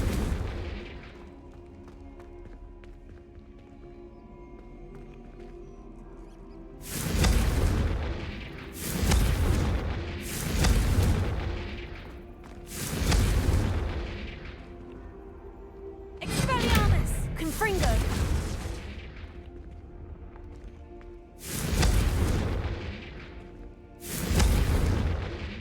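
Confringo spell blasts from the Hogwarts Legacy video game land as heavy, booming explosions, about eight of them at uneven intervals, each rumbling out over a quiet background.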